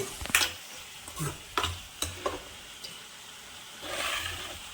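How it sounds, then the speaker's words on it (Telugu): Tomato curry with salt and turmeric cooks on a low flame in a pan, giving soft sizzling with a few brief stirring scrapes and clinks and a swelling hiss near the end. "దీన్ని సిమ్లో పెట్టుకొని చక్క చిన్నగా మగ్గనిస్తున్నాం అండి కూరని"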